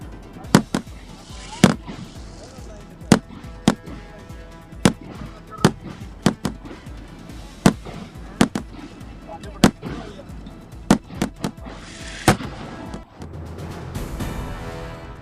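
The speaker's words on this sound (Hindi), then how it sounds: "केरल में त्रिशूर पूरम उत्सव की धूम। आतिशबाजी से आसमान में रौनक।" Fireworks bursting over the Thrissur Pooram festival in Kerala, a steady run of sharp, loud explosions at roughly one-second intervals over a rumbling crowd-like background, with a denser crackling wash near the end.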